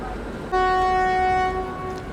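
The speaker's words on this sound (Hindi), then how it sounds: "और यहाँ करेक्ट 3:55 पर हमारा डिपार्चर हो चुका है हज़रत निज़ामुद्दीन रेलवे स्टेशन से" The Secunderabad Duronto Express gives a single loud, sustained horn blast lasting about a second as it departs Hazrat Nizamuddin station, over low rumbling rail noise.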